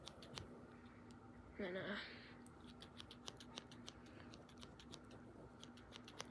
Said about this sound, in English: let's just do some snips real quick